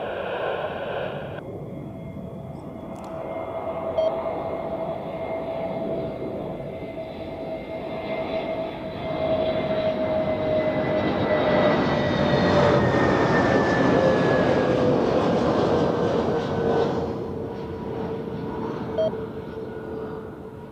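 An Iberia Airbus A320neo airliner lands at Zurich Airport, its loud, steady engine roar with a descending whine sweeping past close by, swelling mid-clip as it touches down and runs out, then easing toward the end.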